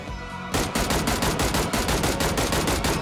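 Rapid single-fire M16 rifle shots in the mobile shooter game Peacekeeper Elite crack out in a quick, evenly spaced string, loud and close, after a brief lead-in.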